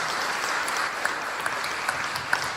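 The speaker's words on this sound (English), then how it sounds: "Give her a big round of applause" A community gathering in East Belfast applauds a singer, steady crowd clapping with a few sharper individual claps standing out near the listener.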